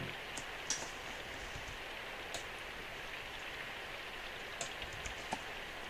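Steady rain hiss from the visual novel Symphonic Rain, soft and continuous, with a few faint drip-like ticks scattered through it and no voices.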